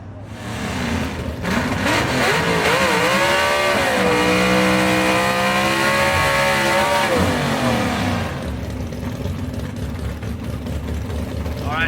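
Gasser drag race cars at Knoxville Dragway, loud roaring engines revving and launching with rising and falling pitch sweeps, close and continuous, with a crowd-like wash underneath.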